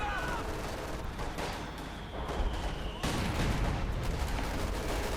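Artillery barrage in the strategy game Company of Heroes 2, heard as rolling explosions and gunfire crackling at moderate loudness, with a heavier burst partway through.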